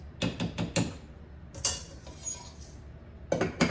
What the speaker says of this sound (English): I'm going to grab a spoon, mix it up a little bit